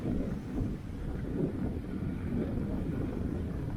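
Wind buffets the microphone at a beach cove in a continuous low, rumbling roar with no one speaking.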